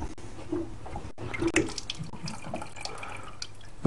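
Rinse water drains and splashes steadily from a CARTIS fountain during cleaning, a continuous close running-water sound with faint drips and no talking.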